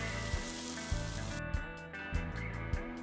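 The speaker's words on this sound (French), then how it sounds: "Faites revenir et blondir vos oignons 5 minutes à feu doux." Onions frying gently in olive oil in a saucepan, a soft sizzle with faint crackles and occasional thumps, close and fairly quiet with no voices.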